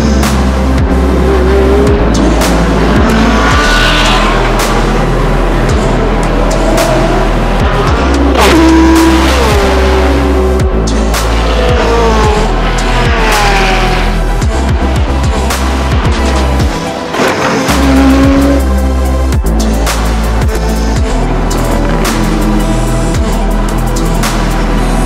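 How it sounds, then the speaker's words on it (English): Race cars roar off the start of the 24 Hours of Spa endurance race out of La Source, a loud continuous wall of engines rising and sweeping past with shifting pitch, crowd-level commentary faintly underneath. "Total Energies 24 Hours of Spa is about to get underway. Out of La Source they come, speed builds up towards the lights."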